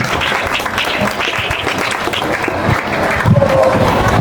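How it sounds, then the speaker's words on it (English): Audience applause at a school library equipping and commissioning ceremony, a dense, steady wash of many hands clapping that lasts throughout and swells slightly near the end. "a round of applause for him"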